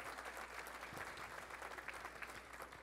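Steady applause from a convention crowd, dense clapping continuing throughout at an even, fairly loud level.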